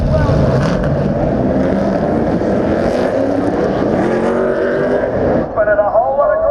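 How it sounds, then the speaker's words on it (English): Stadium Super Trucks racing at the Gold Coast 600 event, a loud continuous roar of engines, dense and close, with commentary voices talking over it throughout and a brief dip near the end. "One of the highlights of the event for me was the Stadium Super Trucks."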